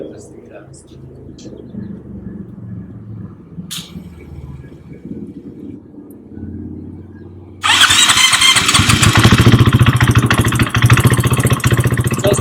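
A KTM/Husqvarna motorcycle with a power-bogging fault starts up and then revs hard, a loud, rough mid-pitched engine roar that jumps in abruptly after several seconds of quieter low rumble and mechanical noise.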